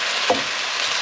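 Pork browns in a frying pan with a steady, close, bright sizzle and a faint stirring scrape near the start, with no talking over it.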